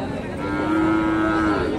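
A Friesian bull calf at a cattle market gives a single sustained moo lasting over a second, loud and close against a busy market background.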